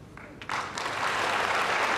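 Spectators applaud at a 2007 snooker match in Hong Kong between John Higgins and James Wattana. The clapping starts suddenly after a quiet moment, then swells into sustained, even applause.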